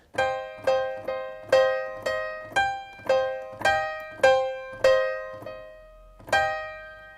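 Synth chords struck about ten times in a steady pulse, each hit decaying quickly, with slightly uneven loudness from randomized velocity set by a chord plugin; clean and alone, no talking.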